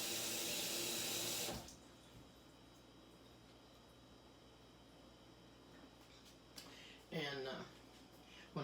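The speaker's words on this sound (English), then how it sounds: "I'm going to go wash my hand." Tap water runs into a kitchen sink for hand washing, a loud steady gush for over a second that cuts off abruptly, leaving quiet room tone with a few faint clatters afterward.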